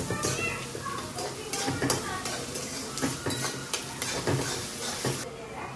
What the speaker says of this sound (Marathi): अशा पद्धतीने आपण चांगला लालसर कांदा भाजून घेतोय।